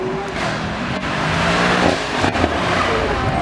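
Supercar at a Beaulieu supercar weekend run, engine roaring loudly as it accelerates past with sharp crackles and pops at the gear changes, close and sustained.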